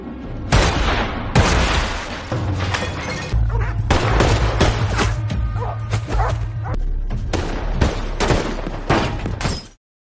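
Heavy gunfire in a film shootout, with loud bursts and single shots coming in rapid clusters over a low rumbling score, close and continuous with no talk.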